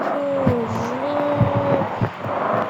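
A big bus in the video game Street Pro drives along, its steady engine drone holding a gliding, rising and falling whine, with a few soft knocks and thumps over a constant hum.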